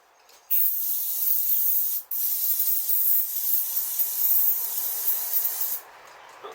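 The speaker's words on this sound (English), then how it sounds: "So give it a good dose of carb cleaner now." Carb cleaner is sprayed into a Honda CRF250R dirt bike that won't start, a steady close hiss lasting about five seconds with a brief break partway through, no voices.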